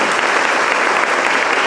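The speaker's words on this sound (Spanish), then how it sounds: "nosotros le damos a Dios un aplauso por cada uno de ustedes" Church congregation applauding together, a dense, loud and steady burst of clapping from many hands filling the room.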